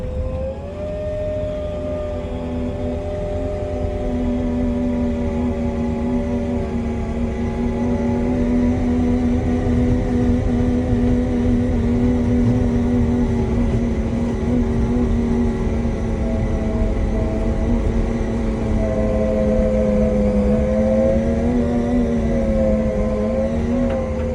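MH 90 Multihog snowblower clearing snow on a mountain road, a steady loud engine drone with a whining tonal hum that holds throughout, close and continuous with no talk.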